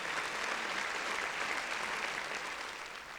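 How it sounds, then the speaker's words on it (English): Podcast studio audience applauds, a dense, even wash of many clapping hands that holds steady and softens slightly at the end, with no talk over it. "Round of applause to Vince and the audience."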